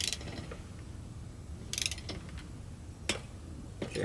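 Head bolts on a Vittorazi Moster Plus paramotor engine are tightened with a torque wrench, giving a few quiet, sharp ratcheting clicks spaced apart against a faint background.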